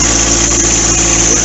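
A new John Deere 4x4 tractor engine runs steadily as it drives along in low gear, a continuous close mid-to-low rumble with constant vibration throughout the short stretch.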